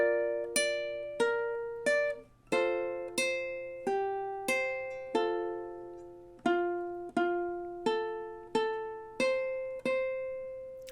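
Ukulele plays measures 7 and 8 of a song at a slow, careful pace, about sixteen strummed chords in a steady pulse, each ringing out and fading, close and alone.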